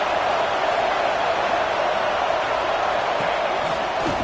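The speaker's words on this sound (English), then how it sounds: "Listen to the crowd energy here in the early going." A dense, steady roar of a large football stadium crowd cheering in a video game, broad and distant-sounding, sustained without pause for a few seconds.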